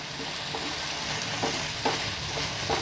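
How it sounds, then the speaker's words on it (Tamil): Chilly idly sautéing in a hot pan: a continuous bright sizzle with periodic scraping strokes of a spatula, close and fairly loud, no voices. "இன்னும் கொஞ்சம் வதக்கிடுறேன்"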